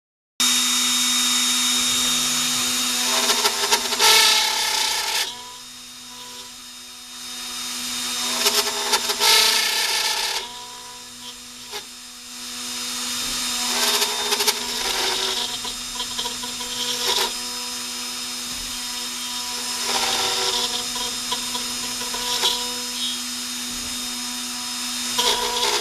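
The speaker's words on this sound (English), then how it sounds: "I have to rehome it and then get back into carving it." An X-Carve CNC router carves a 1-inch-thick workpiece with a loud, steady whine. Rough cutting bursts rise and fall over about 26 seconds, with a couple of brief quieter lulls and no talking.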